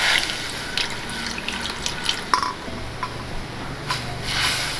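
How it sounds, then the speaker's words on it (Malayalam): Jaggery syrup poured into a pot of mango curry, a close, liquid trickling and splashing with a few small drips and clinks, fairly soft, no talk. "ഇതിലേക്ക് നമുക്ക് കുറച്ച് ശർക്കര പാനി ഒഴിച്ച് കൊടുക്കാം."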